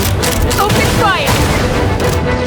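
Cannon fire in a Genshin Impact event mini-game, loud dense booming blasts running continuously through the moment over game music, with a character's voice calling out amid the shots.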